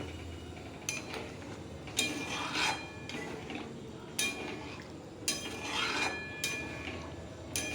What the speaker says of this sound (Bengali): আবার একটু ভালো করে নেড়ে নেব